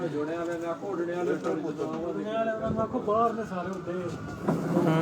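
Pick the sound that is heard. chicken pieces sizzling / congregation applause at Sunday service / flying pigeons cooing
flying pigeons cooing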